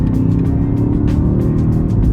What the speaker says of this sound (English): M cars today do come with a sort of an exhaust amplifier, which kind of that there's a certain degree of piped-in noise as well.